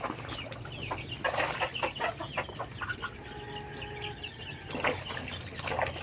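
Native chickens cluck in quick, choppy bursts close by, with a drawn-out call in the middle and a soft steady background hum.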